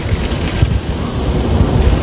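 Heavy rain from a typhoon pours down steadily in a dense, continuous roar with low rumbling gusts, loud and close throughout with no voices.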